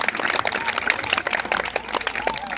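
Applause for NDRF trainers at a primary school, many children clapping together in a steady, dense patter that fills the space for a couple of seconds.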